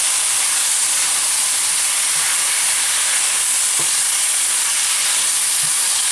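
General Tso's sauce sizzling in a hot stir-fry pan with chicken and green beans, a loud, steady, crackling hiss with a few small pops and no voices.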